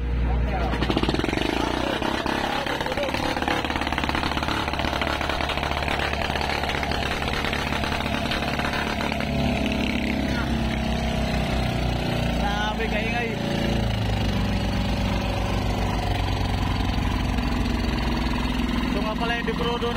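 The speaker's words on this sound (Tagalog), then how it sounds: "Ito lang nag-iisang dekrudo na makina." A lone diesel engine runs steadily and loudly throughout, its continuous low rumble and mechanical drone unbroken, with a voice talking over it at times.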